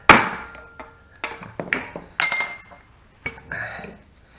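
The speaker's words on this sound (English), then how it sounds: "Just using that chisel on the rubber mallet." A chisel struck with a rubber mallet knocks plastic end caps off rock sliders, several sharp close knocks and clanks at irregular intervals with a brief metallic ring.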